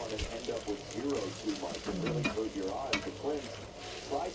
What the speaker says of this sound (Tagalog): Mix na natin lahat ang ating mga sangkap sa ating hash.